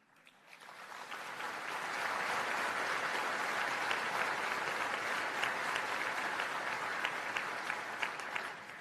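A large audience at a Patriot Day breakfast applauds honorees, including police award recipients, in a dense sustained wash of clapping that builds quickly and holds loud throughout.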